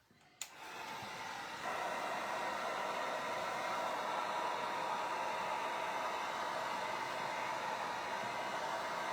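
A hand-held dryer starts with a click and then blows steadily close by, drying stenciled craft work. Its whooshing hum rises a step in strength after a second and then holds even and loud, alone without talk.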